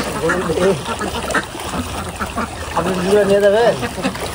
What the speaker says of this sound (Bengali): এই হাঁসগুলা মাশাআল্লাহ হাঁসের পরিমাণ কমছে